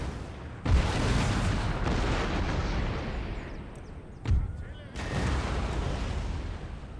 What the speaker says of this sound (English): Another block here for these cannons, especially at close range with canister.